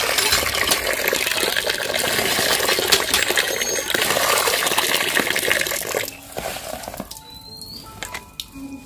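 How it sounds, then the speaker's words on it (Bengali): Water poured and splashing during a flower-and-water offering at a Bengali household worship on Chaitra Sankranti, a steady close patter of liquid with small metallic clinks, easing off near the end. "এবারে আমরা একটু করে ফুল জল দেবো"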